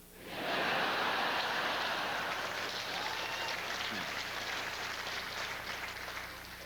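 An audience at a comedy festival breaks into applause, swelling quickly into a dense, sustained roar of many hands clapping that holds steady and slowly eases off.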